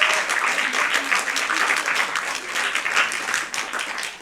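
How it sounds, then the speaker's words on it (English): A crowd at a science slam featuring school showcases applauds steadily, a dense, continuous wash of clapping that stays loud and even for several seconds with no talk over it. "Yes, give them a round of applause."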